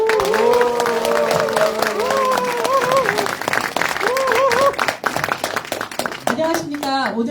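A crowd gives loud, sustained applause to open a public talk event in a hall, with tonal voices or music sounding over the clapping throughout.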